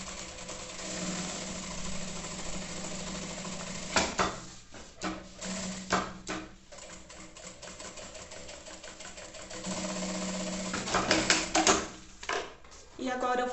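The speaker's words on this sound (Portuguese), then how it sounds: "Eu costuro o bolso inteiro. Bem na beiradinha, pra não aparecer a costura do outro lado." A sewing machine stitches around the edge of a bag pocket for a maternity bag, a steady mechanical whir running in long bursts with brief pauses and handling clatter between them.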